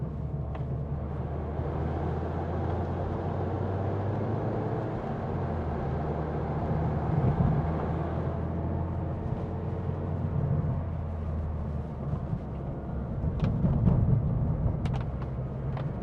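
A 2011 Mazda MX-5 2.0i Kendo roadster pulls hard on a test drive, its engine note droning steadily and swelling as it accelerates, heard from inside the car with road rumble underneath.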